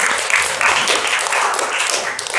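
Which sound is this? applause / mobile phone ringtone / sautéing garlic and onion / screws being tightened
applause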